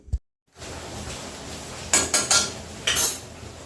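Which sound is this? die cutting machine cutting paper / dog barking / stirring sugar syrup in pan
stirring sugar syrup in pan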